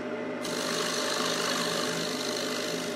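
A wood lathe spun up to roughly 1,000–1,500 RPM while turning a plate, giving a steady, loud whirring hum with a broadband rasping hiss that jumps in after a brief quieter start and holds without pause.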